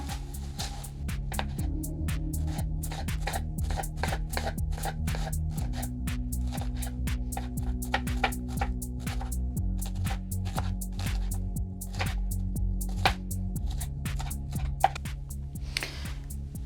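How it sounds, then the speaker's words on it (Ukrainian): Sharp knife taps on a cutting board in a quick, steady rhythm, dicing an onion over a low sustained musical backdrop, with no talking. "Тепер треба нарізати цибульку кубиками."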